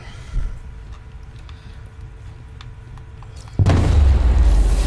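A heavy explosive detonation in Batman Arkham Knight erupts suddenly late in the clip, a loud sustained boom and rumble following a quieter stretch of low background noise.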